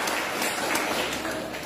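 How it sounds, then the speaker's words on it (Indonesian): A church congregation breaks into a thick, steady wash of applause that holds at an even level for a short stretch. "Tepuk tangan untuk Tuhan Yesus."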